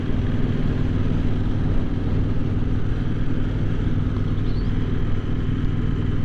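A CFMoto 800NK motorcycle cruising at steady speed on cruise control, its engine a constant low drone blended with road and wind noise, even and unbroken throughout with no revving.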